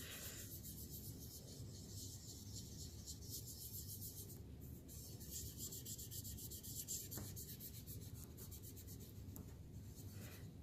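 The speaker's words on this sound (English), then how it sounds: "I'm going to go ahead and rub that in, and I'm really pressing down right now." Dark pencil scrubbed hard across paper laid over a carved linoleum block, a steady dense scratching rub that continues evenly and close throughout with no pauses.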